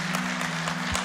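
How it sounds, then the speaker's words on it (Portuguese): Church congregation applauding to welcome a visiting family during a family worship service, a steady wash of clapping hands over a low constant hum, continuous through the moment with no talk. "vamos aplaudir essa turma aí."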